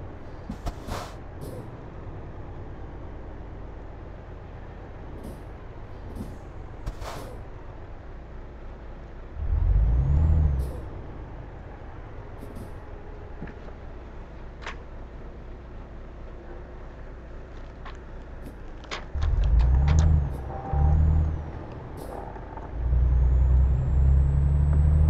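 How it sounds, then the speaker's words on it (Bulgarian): Heavy trucks rumble past in Euro Truck Simulator 2, with deep engine swells building loudly near 10 and 20 seconds and again at the end, over a steady low drone and occasional air-brake hisses. "Не ми се случва често толкова камиони да минават пред мен."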